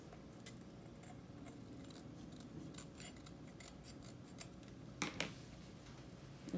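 Scissors trimming excess sublimation paper around a photo mug, a steady run of soft, quiet snips and paper rustles with a couple of sharper cuts near the end.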